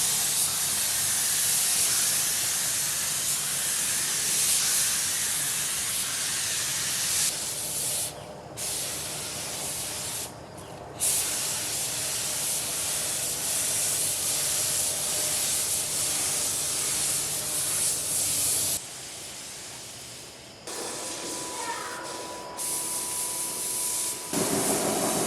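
A spray gun lays a fog coat of oxide primer onto the doors of a 1947 Ford pickup, a loud, steady hiss that drops out briefly between passes.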